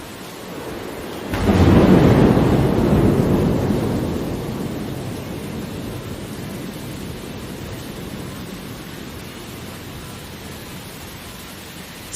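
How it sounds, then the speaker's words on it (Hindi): A heavy thunderstorm: a deep roll of thunder breaks in after a moment and slowly fades, leaving a steady, dense hiss of pouring rain throughout. "बादल जोर से गरजे, बिजली चमकी, बारिश आबशार की तरह बरसने लगी।"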